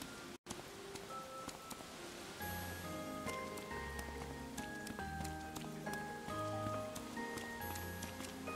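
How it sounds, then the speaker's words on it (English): Rain falling in the video game Atelier Sophie 2, a steady soft patter that runs under a bed of game music with sustained tones, with no talk over it. "Yeah, that's rain."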